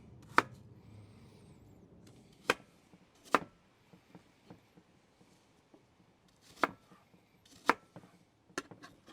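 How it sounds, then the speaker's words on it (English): Sharp, scattered knife chops on a cutting board as apples are cut into chunks for an apple crisp, a handful of crisp, isolated strikes at uneven intervals with quiet gaps between them, close and clear. "Now our apples are cut up."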